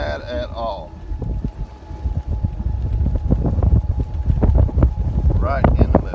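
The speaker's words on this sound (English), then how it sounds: "Wind in our face, that's not too bad at all." Steady wind gusts across an open golf course fairway buffet the microphone with a loud, continuous low rumble, while people talk over it at the start and end.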